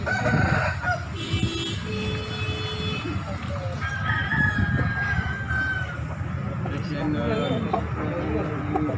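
Chickens cluck and a rooster crows amid a busy crowd of local fowl at Daya market in Makassar, Indonesia, with people talking in the background throughout.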